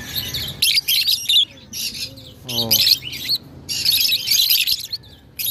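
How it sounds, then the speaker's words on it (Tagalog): Small birds just set free chirp and tweet in quick bright bursts outdoors, loud and close, with a brief spoken exclamation partway through. "Ayan, nagliparan yung mga ibon natin."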